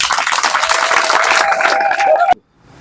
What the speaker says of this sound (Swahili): Makofi hayatoshi jamani.